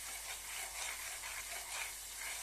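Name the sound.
cashew almond paste sizzling while frying in oil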